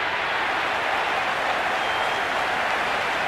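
Unbroken, loud applause and crowd noise fill the stands at a T20 India versus Australia cricket match in the video game Cricket 26, a steady dense wash with no pauses.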